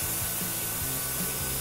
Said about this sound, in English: start spraying, getting that claw down and up and around here into the neck